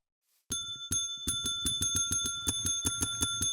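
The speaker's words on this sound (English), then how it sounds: "Oh, a desk bell." A desk bell in a Minecraft modpack is struck over and over, clear bright dings coming in a quickening run of about a dozen, the first few spaced apart and the rest fast and regular, close and alone.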